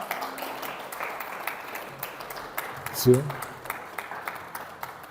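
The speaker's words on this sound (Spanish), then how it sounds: "denle un aplauso al Rey" An audience claps in a steady, dense patter under a speaker's voice, moderately loud and continuous throughout.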